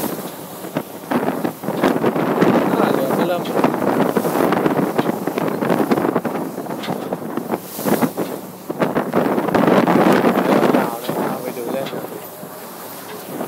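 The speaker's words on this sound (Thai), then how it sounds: "ลมจะแรงไปหน่อยนะผม" Strong wind buffets the microphone on a boat cruising the Bosphorus, a continuous loud roar with gusts that swell and dip, and water and engine noise mixed underneath.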